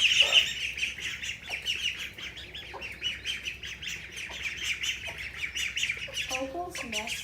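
Ducklings raised by a broody hen squawk and chirp in a busy, overlapping chorus close by, with bright repeated calls throughout and a few lower quacking notes near the end.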